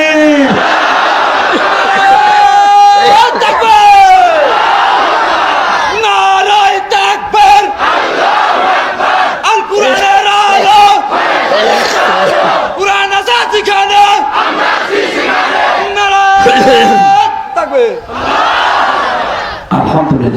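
A large crowd at an outdoor religious gathering on a playground field in Bhangura, Pabna, chants back loudly in unison in answer to a Takbir call, its voices rising in repeated waves across several rounds.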